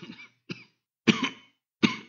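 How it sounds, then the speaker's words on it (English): A person coughs in four harsh bursts. Two are short and two are longer and louder, with silent gaps between them, heard close by and with no other sound. "Do you mind, whoever it is that's coughing so much?"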